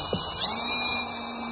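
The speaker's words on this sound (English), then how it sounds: "I'm gonna be using trim screws to go ahead and screw in the side panel to the front panel" Power drill driving trim screws into a wooden side panel of a custom bed platform built inside a Prius car, a short close high-pitched whir that holds steady with no talk.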